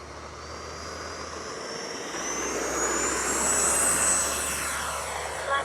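A Freewing 80mm F9F Cougar RC jet fitted with an afterburner flies past, its electric ducted-fan whine rising in pitch and swelling louder toward the middle before easing slightly, with steady broadband rushing throughout.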